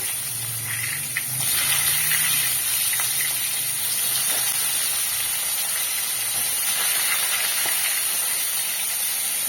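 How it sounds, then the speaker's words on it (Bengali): Pointed gourd (potol) frying in oil over a high flame, a steady loud sizzling hiss that runs on without pause. "পটলগুলো হাই ফ্লেমে আমি এইভাবে ভেজে নেব।"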